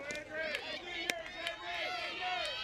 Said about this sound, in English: There's a lot of cheering, a lot of clapping.